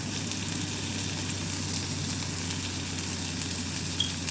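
Onions and tomatoes sautéing in a pan with salt, a steady close sizzle and crackle of frying, continuous and even throughout with no talking.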